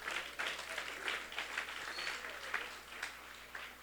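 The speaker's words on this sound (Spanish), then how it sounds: "Dele un aplauso fuerte al Señor." A church congregation claps in uneven bursts, a moderately loud wash of hands that swells and dips, with voices mixed in.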